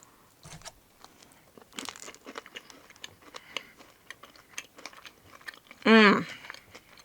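A small Christmas tree cookie is bitten and chewed close up in a run of soft crunchy clicks, ending in a short loud voiced burst of appreciation.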